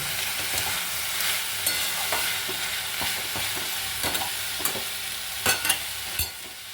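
Potatoes and yard-long beans fry in a pan with a constant close sizzle, and a spatula stirs and taps against the metal at irregular intervals.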